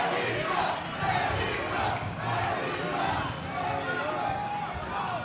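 A boxing crowd at Quiet Cannon chants for Mexican fighter Torres from Guadalajara during an All Star Boxing bout, a dense, sustained roar of many voices filling the hall.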